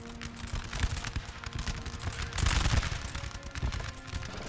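Massed musket volleys crackle in a Napoleonic battle as troops fight at a river crossing, dense overlapping gunfire rolling in waves with a heavier burst in the middle, loud and continuous.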